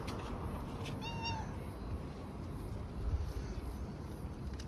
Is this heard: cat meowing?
yes